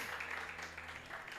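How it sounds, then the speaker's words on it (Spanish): Brief burst of audience applause during a church gathering, a dense, steady wash of clapping at moderate level with faint voices mixed underneath. "Un aplauso para él"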